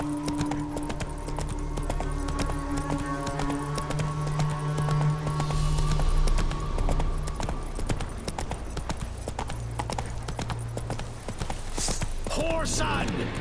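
Roach, a horse in The Witcher 3: Wild Hunt, gallops with fast, steady hoofbeats close up. Game music and effects run beneath, and voices cut in from time to time.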